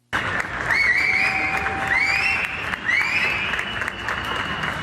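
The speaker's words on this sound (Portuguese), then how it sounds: "À noite, chilenos se uniram nas janelas para aplaudir os médicos" Sustained applause and scattered cheering for doctors echoing from apartment windows at night in Chile, with rising whistles cutting through the clapping repeatedly.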